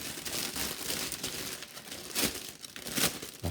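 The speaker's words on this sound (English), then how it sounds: "the sound of rustling plastic bags when you're opening sprues" Crinkly plastic rustling and crumpling, close by and continuous, with a few louder crackling bursts as a bag holding plastic model kit sprues is handled and pulled open.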